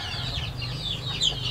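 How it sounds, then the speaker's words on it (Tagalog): Native chicken hens, egg-laying birds, cluck softly nearby, a brief run of high chirpy clucks over a low steady background hum. "Ito yung hens din na nangingitlog na."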